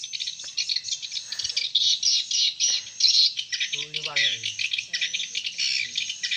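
Dense, rapid high-pitched chirping and twittering of many swiftlets fills the scene continuously, with a brief lower warbling call partway through.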